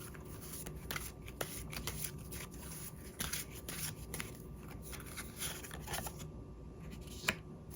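Tarot cards being shuffled and drawn, a steady run of soft papery riffles and flicks with a few sharper snaps, close and quiet with no talking.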